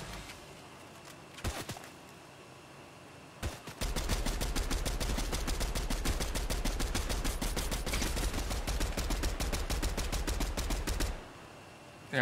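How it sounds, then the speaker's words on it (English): Rapid automatic gunfire from Fortnite rattles in a long dense burst of evenly spaced shots, preceded by a few isolated single shots, loud and close. "I got another person shooting at me"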